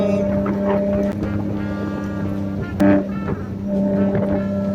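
A Nissan 350Z Roadster engine drones steadily while cruising in fourth gear, its low tone holding constant with a brief louder surge midway.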